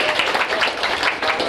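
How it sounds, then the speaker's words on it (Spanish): A small group applauds in a classroom, brisk, fairly close hand-clapping that holds steady for a moment without any voices. "un aplauso."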